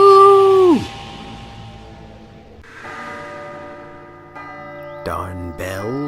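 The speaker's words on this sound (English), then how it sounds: "Darn bells. Always ringing at inconvenient times." In the video game Last Day of June, bells ring out in loud, resonant tones, then fade to a quieter tail with further chiming strikes near the end.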